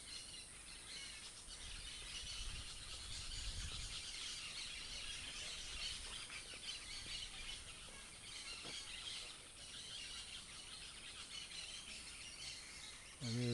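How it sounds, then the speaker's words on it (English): Dense, continuous chatter and squeals of many birds gathered in a single tree north of a Costa Rican town center, a steady noisy chorus heard from a little distance. "just listen to the noise of these birds in this one tree."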